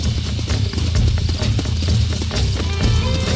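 Horse hooves clip-clop on the ground in the Red Dead Redemption video game, a quick, steady rhythmic patter at close range that runs throughout without any speech.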